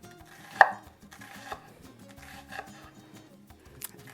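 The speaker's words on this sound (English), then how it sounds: "And then we're just going to slice it" A knife slices through food on a cutting board while braised pork ribs and lime rice are prepared, with one sharp cut followed by a few softer, irregular strokes, close and fairly quiet.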